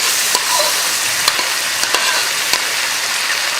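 Loud, steady sizzling of ginger garlic chicken with vegetables frying on a very hot iron plate, with a few faint crackles and pops.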